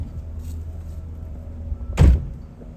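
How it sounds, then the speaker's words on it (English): A door slams once, a single sharp, heavy thud in an outdoor spot by the Femme Osage area, with a faint low hum before it and nothing after. "I was doing great till you slammed the door."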